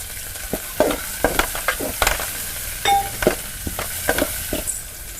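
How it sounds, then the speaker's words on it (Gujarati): Green chillies frying and being stirred in a pan for Chinese-style pasta, with a steady sizzle broken by repeated scraping and clinking stirs, close and moderately loud, with no talking. "તો હવે મરચાં નાખી દેવી."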